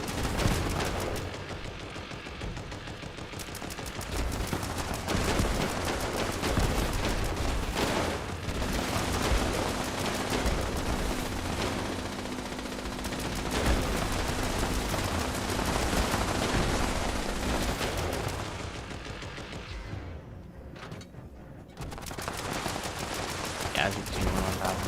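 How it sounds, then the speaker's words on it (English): A Gauss shotgun fires again and again in a video game, a dense run of loud booming shots that barely lets up, with voices talking over the barrage. "You just hear his Gauss shotgun popping off."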